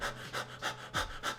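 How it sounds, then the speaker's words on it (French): Jerky, shallow chest breathing from a person, five quick close panting breaths in a steady rhythm, each one a short airy burst with no talking. "on sent que cette respiration-là est trop saccadée"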